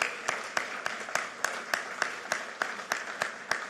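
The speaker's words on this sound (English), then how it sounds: "Give them a big round of applause." Audience applause for construction workers at a data center event, a steady, moderately loud wash of many hands clapping with individual sharp claps standing out at a regular pulse, with no talk over it.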